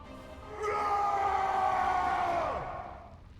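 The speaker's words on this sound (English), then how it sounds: "Tortured scream." A tortured scream from the StarCraft 2 campaign Wrath of the Tal'Darim, a wavering, siren-like wail that swells loudly for about two seconds and then drops away in a falling glide, heard alone over a low game rumble.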